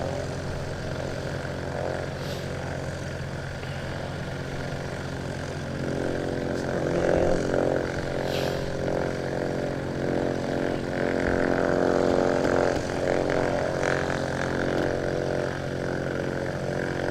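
Nimrod XV232 jet aircraft running its engines at full power at Coventry Airport, a steady loud roar that swells and intensifies partway through and holds as a sustained, wide-band engine rush.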